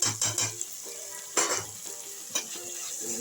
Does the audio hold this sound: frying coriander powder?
yes